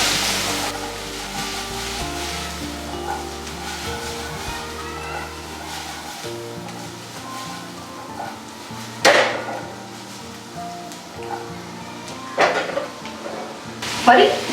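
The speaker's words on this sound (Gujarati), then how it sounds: "બધું મિક્સ કરીશું." Long-cut carrot and capsicum are stir-fried in a pan for bread Manchurian, with a soft continuous sizzle and scraping stirs, then a few sharp knocks of a utensil against the pan toward the end, no talking.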